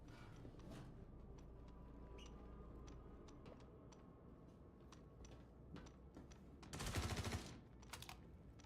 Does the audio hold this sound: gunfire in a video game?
yes